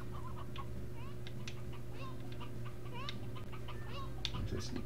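Chickens cluck and chirp in Slime Rancher, a steady run of short, scattered calls over a constant low ambient game drone.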